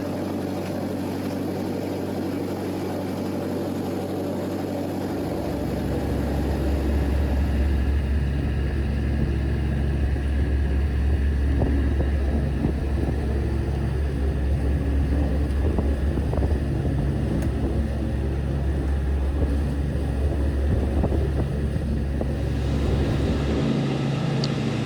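Sailboat motoring out of Rockland Harbor on a winter night, a steady low engine drone that swells and settles into a continuous rumble with faint wind noise throughout.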